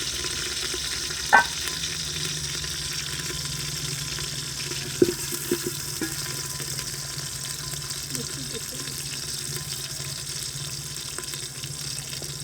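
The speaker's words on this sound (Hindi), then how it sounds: "अब प्याज डालेंगे और इनका रंग सुनहरा होने तक इनको पकाएंगे।" Onions fry in a pan for village-style moong dal, giving a steady, soft sizzle throughout, with a couple of sharp clinks from a utensil against the pan.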